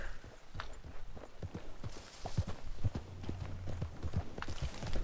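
Hooves of a temporary game horse clip-clop in a steady walking rhythm inside a video game, moderately close and continuous, with light background music.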